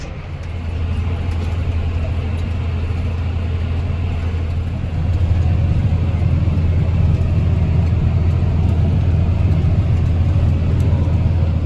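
A farm tractor works a field pulling a sugar beet drill, giving a steady low diesel rumble with a strong bass hum that grows slightly louder partway through and runs without any talk.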